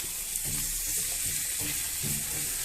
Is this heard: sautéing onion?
yes